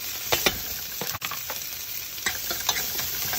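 Sliced Thai green chilies with grated ginger and garlic frying over medium-low heat for a noodle sauce, a close steady sizzle dotted with repeated light scraping stirs and clicks.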